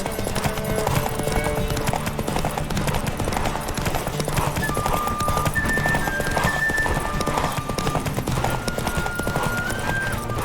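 Rapid galloping horse hoofbeats in The Witcher 3 pound steadily under a loud, dense wash of game music and effects, with occasional whinnies.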